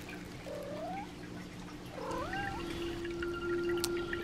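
A cat gives two drawn-out rising meows, the second a wavering double call, heard close in a quiet room at a house with a faint steady hum behind it.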